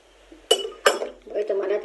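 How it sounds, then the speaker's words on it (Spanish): Water being stirred in a glass during a classroom science demonstration, two sharp clinks of a utensil against the glass followed by softer scraping and swirling, close up. "Y revuelto todo."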